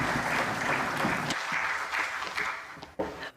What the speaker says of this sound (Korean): 우리 박수로 환영해 주시면 감사하겠습니다